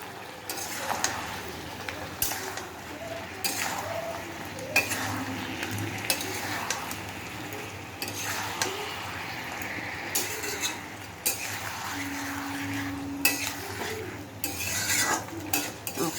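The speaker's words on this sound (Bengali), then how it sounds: "মশলাটা কষা হয়ে গেছে।" Masala sizzles and fries in a pan while a spoon scrapes and stirs it, with repeated bursts of scraping and clinking over a steady low sizzle, close up and without talk.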